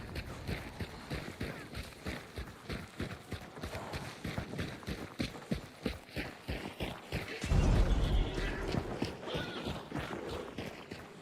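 Horse hooves clip-clop in a quick, steady rhythm in a video game, with a deeper rumble swelling in near the end.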